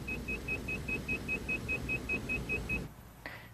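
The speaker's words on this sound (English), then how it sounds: "Now, what you were hearing there was a stall warning system." An aircraft stall warning system sounds as a steady series of short, evenly spaced high beeps over a rumbling engine-like background, then stops abruptly with a brief fainter tone afterward.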